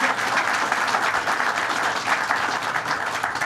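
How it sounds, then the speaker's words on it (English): At a governor's announcement event, an audience breaks into sustained applause, a thick, even wash of many hands clapping that stays loud and steady from start to finish. "So let's give him another round of applause."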